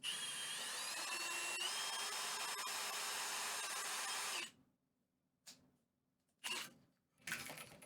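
A high-pitched power drill whines steadily for several seconds, then stops, followed by two or three short bursts as the trigger is pulsed.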